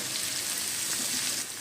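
Finely chopped large onion frying in a pan, a steady close hiss and crackle of sizzling oil throughout the short moment, with no talking.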